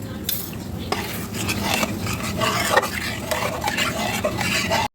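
Doi katla fish curry gravy boils in a pan while a utensil stirs and scrapes it repeatedly, giving close, busy clatter over a steady bubbling sizzle.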